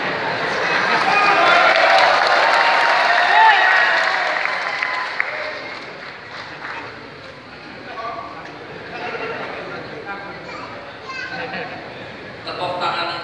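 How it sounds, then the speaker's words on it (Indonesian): A large crowd at an outdoor tabligh akbar, an Islamic mass sermon gathering in Pekalongan, bursts into dense applause that is loudest at first, then thins and fades over several seconds as voices carry on beneath it. "Tepuk tangan itu ada dalam Al-Quran"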